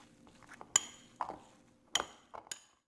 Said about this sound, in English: I am going to mix this with a spoon to form a dough